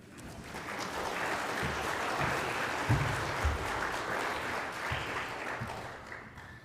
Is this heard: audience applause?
yes